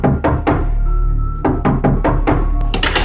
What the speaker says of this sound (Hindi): बाहर दरवाजे पर हो रही थी दस्तक